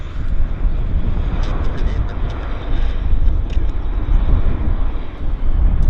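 A heavy jet aircraft taking off at Vancouver Airport, a loud, continuous low roar with wind buffeting the microphone, with voices talking faintly underneath.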